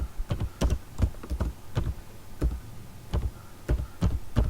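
Typing on a computer keyboard during an ICT lesson, a string of about fifteen distinct close key taps in an uneven rhythm, each sharp and clear against a quiet background, with no talk.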